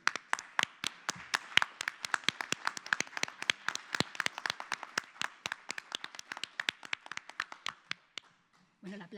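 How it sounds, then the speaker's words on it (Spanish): Enthusiastic applause from a large audience, dense rapid clapping sustained for several seconds before stopping abruptly, with a brief murmur at the end. "el aplauso evidentemente es para Arguedas"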